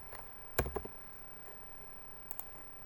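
A computer mouse clicks a few times at close range, with a quick cluster of sharp clicks, then a faint pair of clicks moments later over quiet room tone.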